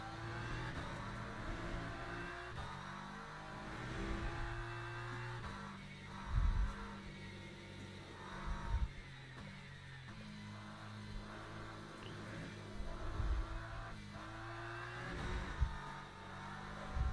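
A BMW race car engine in the Le Mans Ultimate racing game drones steadily, with rising revs and gear shifts, and bursts of throttle recur at intervals, fairly faint overall.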